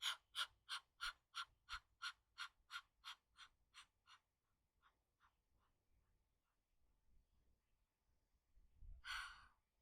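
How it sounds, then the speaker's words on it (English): Rapid, rhythmic forceful nasal exhalations of Kapalabhati fire breathing during a hot yoga session, about a dozen sharp puffs that slow and fade, followed after a pause by a longer loud breath. "So this is our fire breathing, Kapalabhati breathing."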